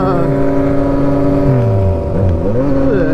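Yamaha MT-09 motorcycle engine heard on board while riding at dusk, a loud close harmonic drone that holds steady, then dips and swings up and down in pitch through gear changes.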